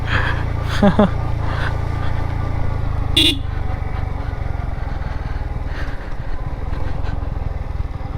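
Motorcycle engine running in second gear on a road to Bandarban, a constant low droning hum close to the mic, with a brief horn toot and faint voices under the steady engine noise.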